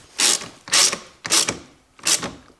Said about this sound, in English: I take my 10mm socket and I fasten this bolt